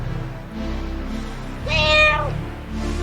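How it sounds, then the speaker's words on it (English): A cat meows once in the video game Echoes of the Fey, a clear, fairly loud mid-pitched call rising over a soft game music background. "Oh, a cat?"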